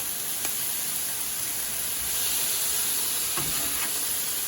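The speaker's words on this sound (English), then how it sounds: "we're trying to steam the cabbage and the green onion with the water that's residual" Cabbage and green onion sizzle and hiss steadily in a hot pan, steaming in leftover water, with a few light scrapes of stirring over the continuous close frying noise.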